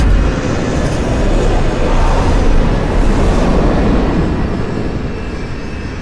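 A passenger-type airplane comes in to land at an airport ahead of an approaching typhoon, its broad engine roar loud and steady throughout, rising slightly in the middle before easing off, with no voices.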